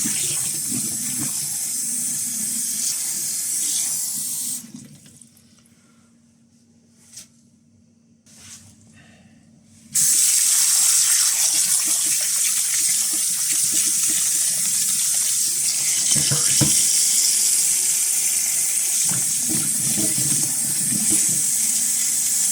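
Tap water runs into a sink while peeled pickling onions are rinsed, a steady hissing gush that drops away for several seconds, then returns loud and continuous.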